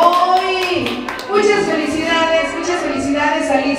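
Guests at a birthday party in San Mateo clap for Alicia, a quick burst of brisk close hand claps mixed with voices and talking.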